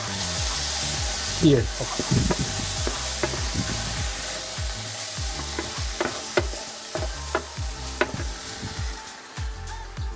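Tomato sauce sizzling in a pan of butter chicken curry as a spoon scrapes and stirs it in repeated strokes, with a steady frying hiss underneath and a brief voice speaking once.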